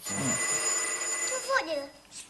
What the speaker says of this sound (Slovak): Telefón.